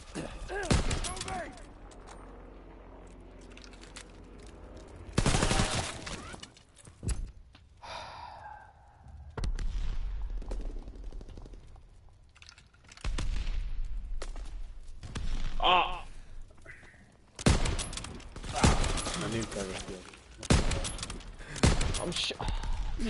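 Scattered gunshots in a WW2 shooter video game, a few loud isolated bangs separated by quieter stretches, with breathing and vocal sounds in between.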